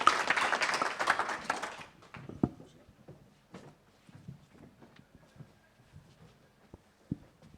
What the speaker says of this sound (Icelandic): Eigum við ekki að gefa þessum þáttökum gott klapp